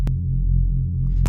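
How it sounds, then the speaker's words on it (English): A smooth, clean reese synth bass built with harmonic morph, pitched down two octaves and filtered very low, a deep throbbing hum with slow phasing and little high end, loud and alone. "Really nice, clean, smooth reese. Very bassy, not much high end."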